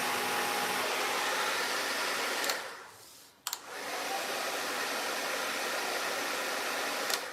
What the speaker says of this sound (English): I waited until now after you started blow drying your hair.